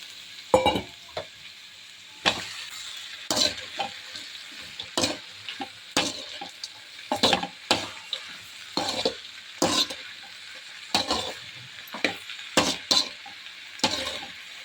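Boiled moong beans and greens tipped into a pan of lightly fried onions, with loud sizzling bursts and repeated scraping, stirring strokes at an irregular rhythm, close up and without any talking.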